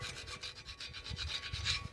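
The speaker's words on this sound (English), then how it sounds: "So I'm just going to use a flat bladed screwdriver. We're just going to knock off any raised spots." A flat-bladed screwdriver scrapes rust off the hub face of a Ford Escape front brake hub, making a quiet, steady run of short rasping strokes in a quick rhythm, close up and with no voices.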